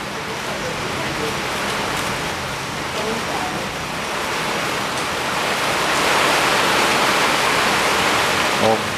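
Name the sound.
rain falling on the roof during a thunderstorm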